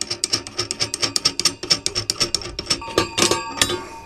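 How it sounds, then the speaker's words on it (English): Metal threads grinding as a knob is screwed by hand into an astrophotography tripod's spreader, a close, steady run of short rasping scrapes repeating every fraction of a second, slightly brighter and denser toward the end. "And then I'll just be screwing that in until it is at the level of the spreader."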